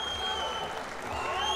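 A wrestling crowd applauds steadily after a freestyle 61 kg gold-medal bout at the 2019 European Championships, a dense, continuous wash of clapping under a commentator's voice.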